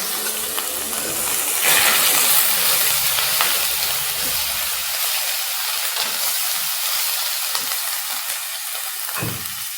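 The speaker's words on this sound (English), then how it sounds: "Add ginger and garlic paste together with the green chillis." Ginger and garlic paste with green chillies hits hot oil with mustard seeds in a pan for a Malaysian fish curry, setting off a loud, steady sizzle with a few stirring clinks.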